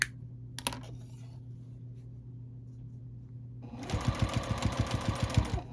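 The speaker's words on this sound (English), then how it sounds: "Turn and sew to the corner." A sewing machine stitching quilt binding starts up after a quiet hum and a few small clicks, then runs in a close, fast, even rhythmic chatter of stitches for the last couple of seconds.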